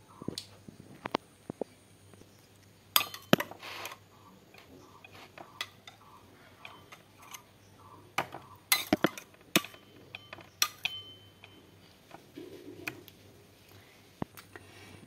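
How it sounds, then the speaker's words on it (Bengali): Soaked raisins are moved from a glass of water into a bowl, with scattered clinks and taps of dishes and utensils, sharp near knocks at irregular intervals over a quiet room, no talking. "এবারে আমি এই কিশমিশটাকে এই বাটিটায় তুলে নেব।"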